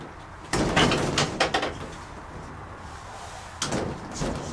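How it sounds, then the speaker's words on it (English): Door being closed at an allotment shed: a sudden clattering bang with rattling follow-up knocks, then a second softer knock a few seconds later, fairly close. "Just close the door."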